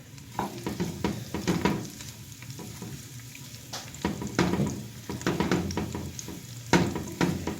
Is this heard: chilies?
yes